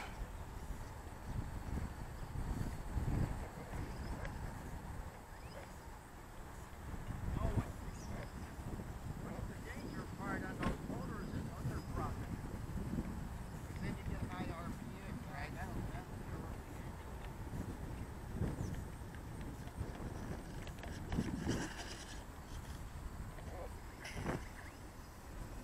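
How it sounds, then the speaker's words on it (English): Gusty wind buffets the microphone in rumbling bursts, with scattered rustles and thumps over a continuous low roar. "Got windy."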